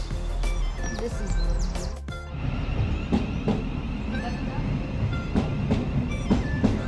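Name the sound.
train arriving at London St. Pancras station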